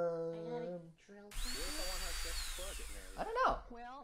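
Power drill whirring with a high whine for a few seconds, heard under and between voices talking.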